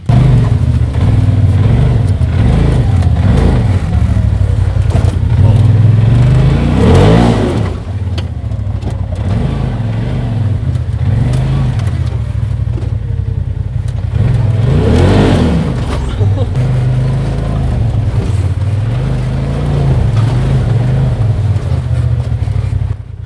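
A Polaris RZR Turbo UTV engine drones loudly and continuously on an off-road trail in Canada, surging with two distinct revs about halfway through and near the end.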